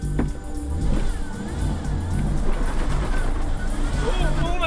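A budget off-road car's engine restarts and revs while churning through rough terrain, a loud continuous growl with rising revs and wheel spin noise, with a person talking over it.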